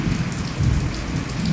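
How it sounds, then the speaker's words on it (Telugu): Torrential downpour hammers down outdoors near a home, a loud, continuous roar of rain on surfaces with a heavy low rumble swelling in places, and no talking. "అసలు బీభత్సంగా పడుతుంది వర్షం అయితే."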